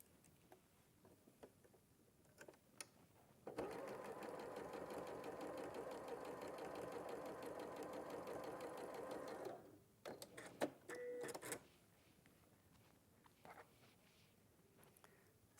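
A sewing machine running a quarter-inch seam along fabric, a steady mechanical whirring hum with fast ticking that runs for about six seconds, fairly near and quiet, followed by a few clicks and handling noises.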